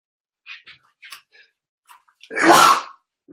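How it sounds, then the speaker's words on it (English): A loud, explosive sneeze bursts out after a few soft, breathy sounds, close and sudden, lasting about half a second. "I need to sneeze."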